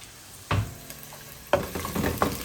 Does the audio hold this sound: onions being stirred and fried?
yes